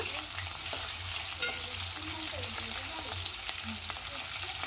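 Green chillies and onion frying in a pan for tindora (ivy gourd) fry, a continuous soft sizzle with faint scrapes and taps of stirring, close but fairly quiet, with no talking.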